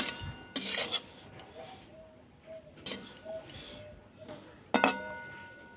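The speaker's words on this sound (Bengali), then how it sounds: "তিলটাকে ভেজে নিচ্ছি" Sesame seeds dry roasting in a pan for til naru sweets, with bursts of raspy scraping and rustling as they are stirred, separated by quieter gaps and faint clinks.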